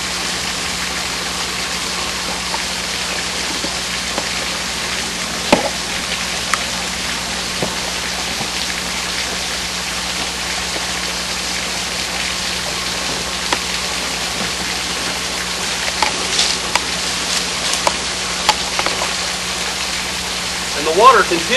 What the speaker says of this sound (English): And the water continues on down